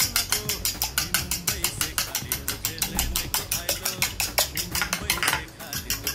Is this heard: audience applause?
no